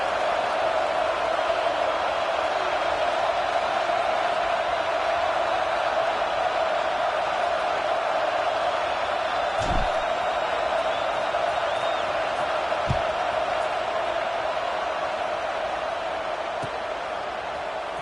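Ambient stadium crowd from the College Football 26 video game, a steady, even roar that holds at the same level for the whole stretch, broken only by a couple of brief dull thumps.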